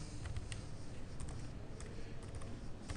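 Typing on a computer keyboard, a steady run of quick, close key clicks at an even pace over a constant background hiss.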